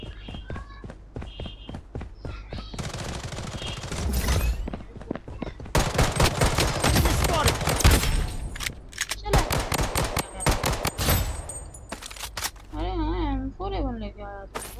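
Rapid M4A1 rifle bursts in the mobile shooter game Bloodstrike, loud repeated automatic fire with footsteps and game effects, while a person talks over the action.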